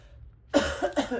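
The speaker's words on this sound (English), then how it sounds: "No, I was coughing." A single short cough followed by a couple of smaller throaty coughs, close and moderately loud.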